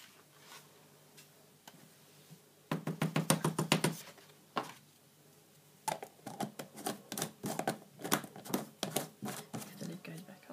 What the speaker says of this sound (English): And you knock the excess off.